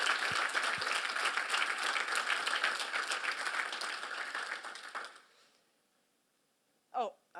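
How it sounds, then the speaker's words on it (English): A conference audience applauds the organizers, a dense steady wash of many clapping hands that fades out around five seconds, followed by a couple of brief voice fragments. "I want to give a big applaud to you"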